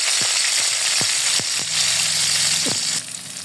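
Browned onions sizzle steadily in a pan as chilies and salt are added, with several sharp clicks and scrapes of stirring over the constant frying hiss.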